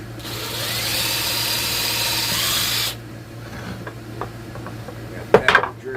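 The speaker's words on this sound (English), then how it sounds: "Let's drill our hole." A power drill whines loudly for about three seconds drilling a hole, then stops; a low steady hum continues, followed by a few clunks and handling noises.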